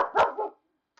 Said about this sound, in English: have no idea what he's barking at